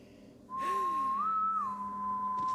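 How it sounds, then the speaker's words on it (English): A person whistling in the video game Borderlands 3: a single clear, sustained whistled tone that bends upward and back down, heard alone against a quiet backdrop. "Someone"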